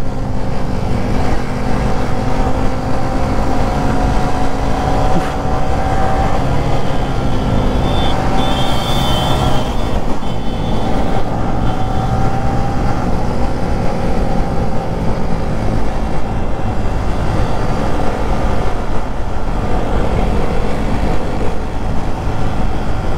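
Scooter engine droning steadily while riding along a road, a constant moderately loud hum with wind noise and shifting pitch, and voices talking over it at times.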